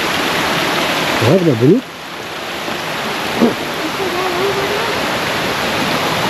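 A river flows along its rocky bed near the Salto Cristal falls, a steady loud rushing wash of water throughout, with a person briefly speaking over it.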